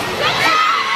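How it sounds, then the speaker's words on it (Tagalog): Crowd noise from a packed audience at a final-game basketball match in San Bartolome, Sto Tomas City, Batangas, a steady wash of cheering and children's shouts, loud and continuous. "Grabe yung crowd natin ngayon,"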